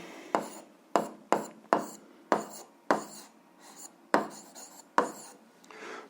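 A pen writing an answer on paper, a quiet close series of about ten short scratchy strokes, each trailing off in an uneven rhythm.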